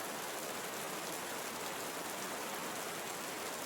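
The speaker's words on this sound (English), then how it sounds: "We invite you to experience the sound of rain as a method to mitigate tinnitus." Steady, dense rainfall in a tropical rainforest in Costa Rica, a constant broadband hiss of drops with no breaks, loud and close, without any voices.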